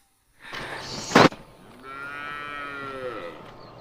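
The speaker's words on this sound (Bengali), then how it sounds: "এই ছোট বাচ্চা গরুটা দাঁড়িয়ে আছে আর মাকে ডাকছে।" A young calf calling for its mother lets out a long, drawn-out moo with rising and falling pitch, close by, after a brief sharp knock in the background.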